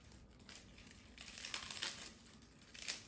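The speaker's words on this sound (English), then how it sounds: "So I'm just gonna cut the lettuce like so." A knife cuts through washed, dried lettuce with quiet crisp crunches and crinkling, faint and close, swelling in a few brief bursts.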